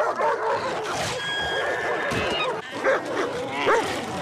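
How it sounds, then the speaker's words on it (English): A pack of wild dogs in a TV drama scene, heard as a mix of barks, yips and whimpers that rise and fall over a busy background, with some voice-like sound mixed in. "Pack of wild dogs."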